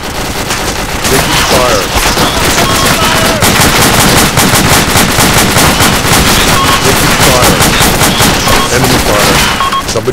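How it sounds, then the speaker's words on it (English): Enemy gunfire in a military video game: dense, sustained machine-gun bursts and overlapping rifle shots rattling without pause for the whole stretch, loud and close, with faint voices mixed in. "Enemy fire."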